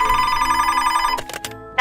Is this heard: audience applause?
no